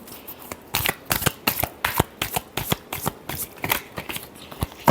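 Tarot cards are shuffled briskly by hand in a rapid series of sharp, close riffling snaps, about a dozen quick bursts in a steady rhythm with no talking.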